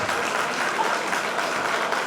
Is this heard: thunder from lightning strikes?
no